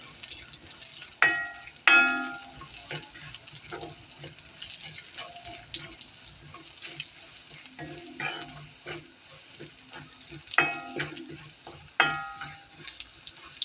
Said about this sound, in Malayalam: ഇനി നമ്മൾ വേപ്പല ഇടുന്നു ഉള്ളി കടുക് ഉലുവ മൂത്തു